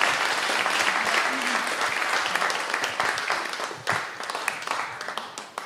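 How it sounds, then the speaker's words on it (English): A church congregation applauds its young people at a Sunday youth service, a dense, steady round of clapping that carries on for several seconds before thinning out toward the end. "Let's give our young people another round of applause."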